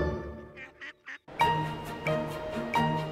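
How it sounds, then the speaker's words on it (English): Ducks quack repeatedly and loudly at close range, several short nasal calls at first, then a run of strong rhythmic quacks with a honking edge. "What about the ducks and the swan?"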